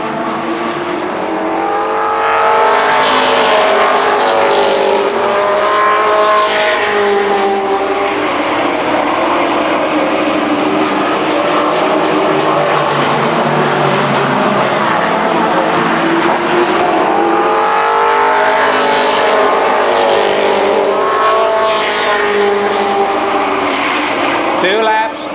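Race cars roar down the backstretch at Columbus Motor Speedway during a Superstar Shootout, engine whine swelling and fading as the cars pass, loud and continuous under an announcer's commentary.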